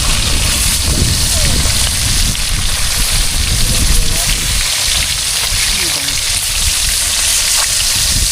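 Loud, continuous sizzling and crackling of fish frying in hot oil, steady throughout, with faint voices murmuring underneath.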